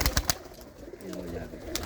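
Pigeons, including a male, coo softly in a loft, a low rolling call in the second half, preceded by a few sharp knocks and clatters.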